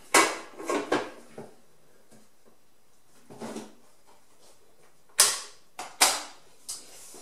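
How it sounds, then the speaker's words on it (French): The lid of a Cecotec Mambo 12090 kitchen robot is fitted and locked in place, making a series of close plastic clunks, scrapes and creaking clicks, with a few sharp snaps toward the end. "Donc on va mettre le couvercle."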